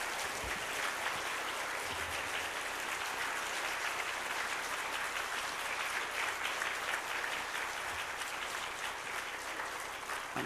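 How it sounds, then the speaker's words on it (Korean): A church congregation at a New Year revival service gives a sustained round of warm applause to welcome a pastor, dense even clapping lasting the full stretch, somewhat distant and low in level. "리민식 목사님 나오실 때 뜨거운 박수로 환영하겠습니다."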